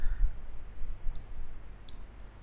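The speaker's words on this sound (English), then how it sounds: "Now right click on there." A single computer mouse right-click on a background layer while editing in Photoshop, heard as a couple of quiet, sharp clicks close up against a low hum, with no talking.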